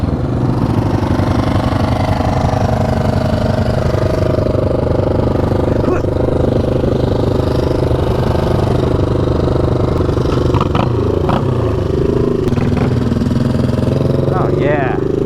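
A motorcycle engine runs steadily close by, a loud low rumbling drone that holds throughout while people talk over it.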